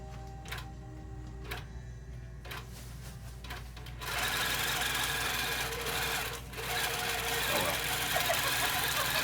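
A longarm quilting machine runs steadily, stitching with a fast rhythmic mechanical rattle that starts quieter and then grows louder and fuller, with a brief dip partway through.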